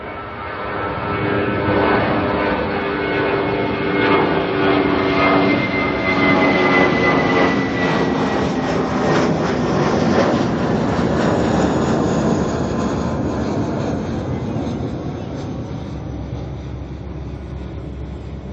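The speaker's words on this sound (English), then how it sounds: "we have got here an A320 making its way off to Dunedin." An Airbus A320 airliner departs Auckland Airport, bound for Dunedin, producing a loud, steady jet roar that holds through most of the clip and eases slightly toward the end.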